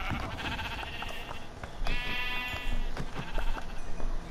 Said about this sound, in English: And there's two more sheep over there.